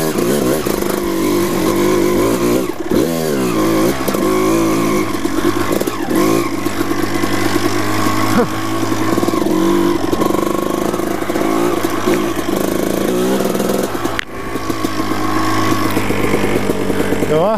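Off-road dirt bike engine revs and putters steadily on a forest trail with the clutch held in, loud and close throughout, with rising and falling throttle swells and faint voices underneath.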